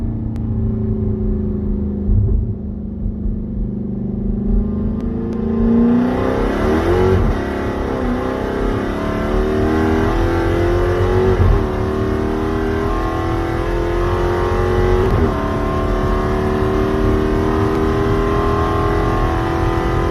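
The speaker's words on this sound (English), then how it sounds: "one more clip of the standard Hellcat coming the other way" A stock Dodge Charger Hellcat sweeps past under hard acceleration, its loud supercharged engine note climbing through several rising gear pulls with brief dips at the shifts and a steady rumble holding throughout, with no voices.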